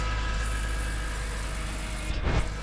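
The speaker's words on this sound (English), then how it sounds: "now let's go move the mom's car." A 2015 BMW 428 Gran Coupe's engine runs with a steady, low, even hum as the car is moved, close and continuous with no one speaking.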